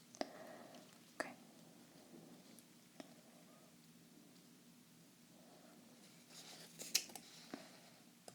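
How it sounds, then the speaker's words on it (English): Scissors snip fondant decoration for Jack Skellington Halloween cake pops, giving a few faint, crisp close-up clicks spread across a quiet background. "Snip that little part there."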